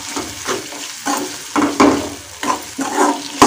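Onion-tomato mushroom masala with red chilli powder is stirred in a pan, a series of uneven scraping strokes over a soft sizzle, loud and close with no talking.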